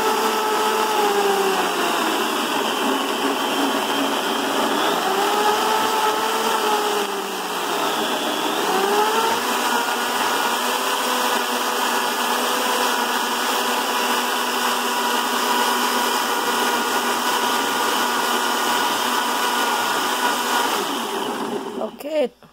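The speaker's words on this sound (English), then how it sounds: "Okay, 3 times it's done, blended very well now." A blender whirs steadily at high speed through a fresh fruit smoothie, loud and close for over twenty seconds, its pitch dipping briefly as the load shifts, then it cuts off abruptly at the end.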